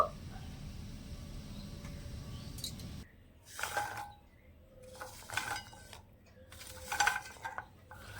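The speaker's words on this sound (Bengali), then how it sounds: "এইবারে চিনির রসের মধ্যে ভালো করে নেড়ে ছেড়ে একটু মিশিয়ে নেব" Fried sweets stirred in sugar syrup, heard quietly as a few separate bursts of wet sloshing and utensil scrapes against the pot, with pauses between them and faint background hiss.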